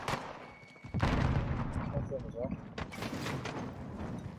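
Gunfire in the video game Warzone crackles in a busy burst of shots and impacts through the clip, loud and layered, with excited players talking over it.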